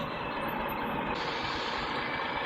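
Dense, steady road traffic on a congested street in Laguna, with a truck's engine rumbling close and a reversing beep sounding over a continuous loud roar.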